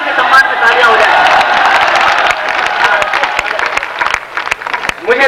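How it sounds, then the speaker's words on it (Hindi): Audience at a Hindi humorous poetry recital (hasya kavi sammelan) in Udaipur applauds the poets, dense clapping with some cheering holding loud and steady throughout, easing slightly near the end. "जोरदार इनके सम्मान में तालियां हो जाए"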